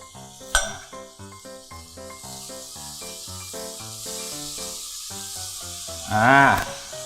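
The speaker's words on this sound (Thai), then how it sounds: "แล้วก็ใส่ซอสพื้นฐานลงไป" A Thai base sauce hits a hot pan for braised pork offal and sizzles with a steady hiss, heard over loud background music throughout.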